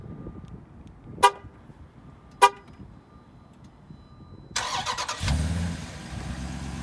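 A Dodge Durango SRT8 SUV with 475 horsepower sounds two short horn-like chirps, then its engine starts up and settles into a deep, throaty idle rumble close by.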